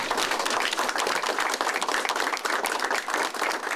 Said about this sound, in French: je pense que ça prend une bonne main d'applaudissement